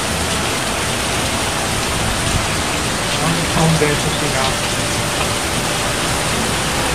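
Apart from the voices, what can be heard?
heavy rain pouring off a roof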